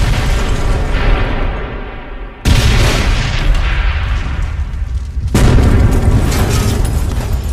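Planted explosive charges detonate in a Ghost Recon cutscene: a sustained rumbling blast rolls on, then two more heavy booms hit in succession, loud and close, with no talking.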